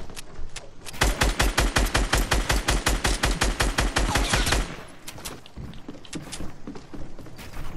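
Rapid automatic gunfire from a weapon in the underwater shooter game Snorkel Ops, a loud sustained burst of evenly spaced shots lasting several seconds, then stopping into quieter game ambience.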